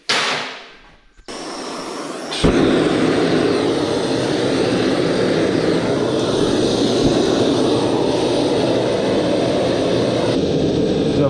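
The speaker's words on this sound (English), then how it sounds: "I'm going to fire up the forge and give it its maiden voyage" A gas forge in a shed lights with a soft whoosh, then settles into a loud, steady roar that runs continuously to the end.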